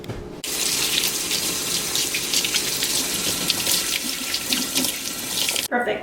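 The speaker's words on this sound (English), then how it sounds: "I'm going to just go ahead and rinse my carrots first" Carrots being rinsed under a kitchen tap while preparing a carrot puree, a steady loud rush of running water filling nearly the whole stretch, starting and stopping abruptly at the ends.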